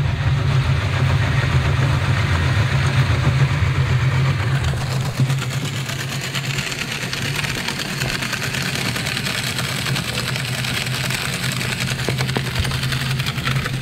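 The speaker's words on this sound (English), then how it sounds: "right now the salter's running" A truck-mounted salt spreader runs with its auger turning, making a steady, loud mechanical engine drone that holds for the whole stretch and shifts slightly in tone partway through, with no voices.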